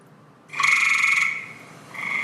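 A person imitates a gray tree frog's call with a loud, buzzing trill that holds for under a second, followed by a shorter, softer repeat.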